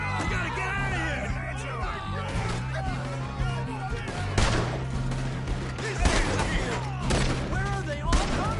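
Gunfire rings out in a Red Dead Redemption 2 shootout, with repeated sharp cracks and bursts over a busy mix of shouting voices and game music.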